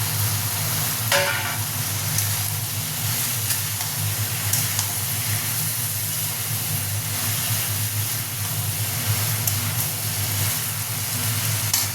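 Elephant foot yam and potato sizzle steadily in hot oil with onion, tomato, ginger and garlic for a Bengali prawn curry, a constant close hiss with a brief clatter as the pieces are stirred in.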